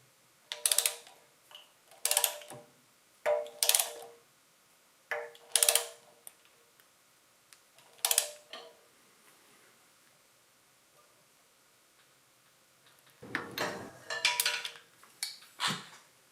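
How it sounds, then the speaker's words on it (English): A torque wrench tightens the front pulley on a John Deere 755 compact tractor to 85 foot-pounds, giving a series of short, sharp ratcheting bursts spaced a second or two apart, then a quieter cluster near the end, with no speech. "And now we tighten down the front pulley to 85 foot-pounds."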